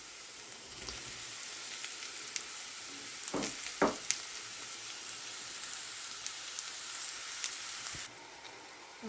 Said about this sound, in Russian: Лук с морковью зажарились.